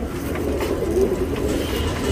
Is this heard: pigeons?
yes